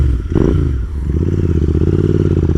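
Royal Enfield Interceptor 650 motorcycle fitted with S&S slip-on exhaust pipes, a close loud burbling idle with a sharp clattering blip near the start, then a rapid steady throb.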